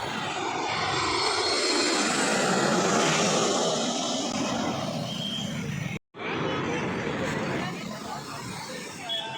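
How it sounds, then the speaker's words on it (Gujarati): A loud, sustained roar of an airplane passing overhead, broadband and steady, with a brief cut midway and the roar continuing slightly lower afterward. "પ્લેન ઉપરથી જાય ને એટલે ફાટી તો જાય છે"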